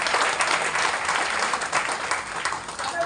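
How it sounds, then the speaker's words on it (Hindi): Audience applause at a talk or seminar, a dense, even patter of many hands clapping at moderate volume, sustained without pause. "तालियां होनी चाहिए।"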